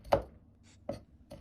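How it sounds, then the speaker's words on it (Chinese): Knife chopping ginger into fine pieces on a board: three crisp, separate taps, close and fairly quiet, with silence between them. "先切成片後，再切成細絲，最後切成薑末"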